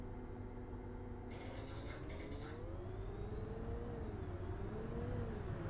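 CNG city bus engine in the video game OMSI 2, a steady mid-pitched drone with a rising whine that holds close and constant throughout, with no talking over it.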